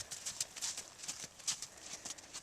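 Horse hooves clip-clop in a steady, even trot during a riding lesson, the rhythmic beats close and moderately loud with no talk over them.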